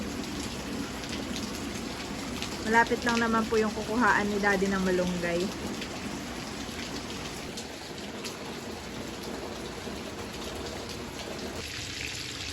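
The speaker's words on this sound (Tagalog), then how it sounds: "Wala pong tigil ang ulan simula nung nakaalis si nanay hanggang ngayon." Steady rain pours during a typhoon in the Philippines, a constant close hiss of drops on surfaces, while someone speaks over it in the middle of the clip.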